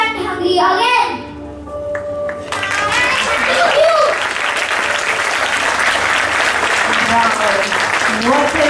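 Audience applause fills the room after a primary school play by classes 2C and 2B, with a voice and musical tones at the start giving way to dense, sustained clapping that holds steady to the end.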